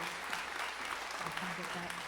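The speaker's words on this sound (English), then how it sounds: "Would you join me in welcoming all of our candidates with some applause?" Audience applause welcoming school board candidates at a candidate panel seminar, steady clapping from a room of people with some voices mixed in beneath it.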